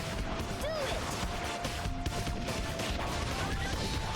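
Rapid gunfire from the video game Gotcha Force, heard as a dense, continuous wash of shots and crashing effects over a few seconds of steady, busy action noise.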